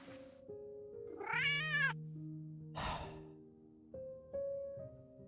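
Cartoonish cat meows in a Minecraft game, two drawn-out rising-falling calls close up over a steady musical drone, with a breathy sigh-like sound between them.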